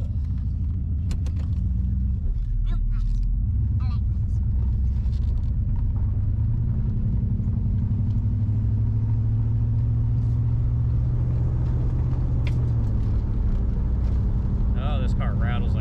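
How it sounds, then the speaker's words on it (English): A 1987 Chevrolet Camaro IROC Z with its front shocks removed rumbles steadily while driving, heard from inside with low road drone and scattered clattering rattles, voices faintly present. "Oh, this car rattles like crazy."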